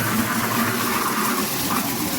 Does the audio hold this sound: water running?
yes